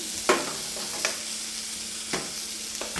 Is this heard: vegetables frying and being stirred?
yes